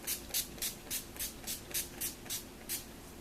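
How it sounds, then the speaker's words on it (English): NYX Matte Finish Setting Spray is pumped in about a dozen quick, soft hissing bursts at an even rhythm, close and fairly quiet, with no talking. "I'm going to be using my NYX Matte Finish Setting Spray."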